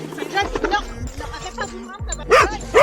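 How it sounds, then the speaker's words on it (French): Off-leash dog barking at a passing electric skateboard rider on rough outdoor ground, heard as a few short close yips and barks mixed in with someone talking over steady rolling noise. "Les chiens qui ne sont pas tenus en laisse et qui te courent dessus dès l'instant qu'ils te voient arriver sur un skate électrique"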